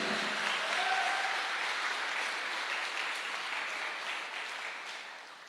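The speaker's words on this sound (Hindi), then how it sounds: "तो हो जाए एक जोरदार तालियां मिस्टर अभिषेक जी के लिए" Sustained applause from an audience honoring Mr. Abhishek, dense clapping that holds steady and slowly fades over several seconds.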